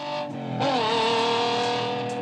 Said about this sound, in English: Rev, the sounds of that engine as it's just tearing along.